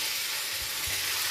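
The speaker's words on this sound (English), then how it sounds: "Oh, sizzle, baby, sizzle!" Meat fries in hot oil, giving a dense, bright sizzle that holds steady and close for the whole short stretch, with a couple of soft low bumps underneath.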